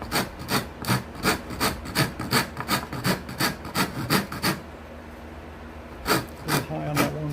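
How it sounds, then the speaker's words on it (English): A coarse rasp filing the wood of a cigar box guitar neck slot, a fast run of rhythmic scraping strokes, then a pause and a few more strokes, loud and close. "I'll take a coarse rasp like this just to kind of even that out some"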